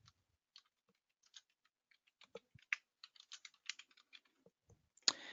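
Fingers typing on a computer keyboard in quick irregular bursts of close, crisp key clicks with short pauses, ending in a louder clack; no talking.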